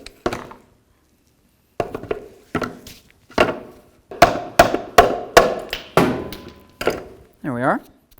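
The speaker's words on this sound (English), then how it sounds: "I'm just going to use a little hammer. I'm going to give it a bonk and see if it pops free." Small hammer striking a stuck oil cooler line fitting on a 1992-99 GMC K1500 truck, a series of sharp metallic taps, sparse at first then quicker and louder, followed by a short ringing tone.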